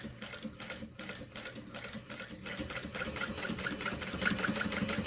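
Close-up whir of a sewing machine running a long basting stitch along a tote bag seam, its rapid ticking needle rhythm steady and building slightly louder toward the end, with no voices.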